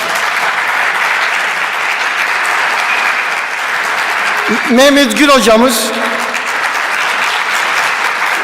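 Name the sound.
audience applause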